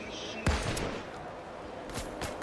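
A single sharp sniper rifle shot cracks out loud and close in the Payday 3 video game, followed later by a couple of fainter reports, over a busy background.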